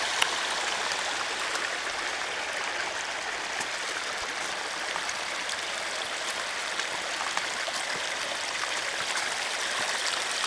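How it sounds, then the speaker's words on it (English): A garden waterfall of recycled, filtered water tumbling like a mountain stream, a steady, close, full rushing splash that holds constant without pause. "this one is the natural mountain stream sound"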